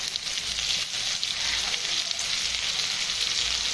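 Sliced onion fries in oil in a pan with a steady, close hiss of sizzling that holds evenly throughout, with no talking.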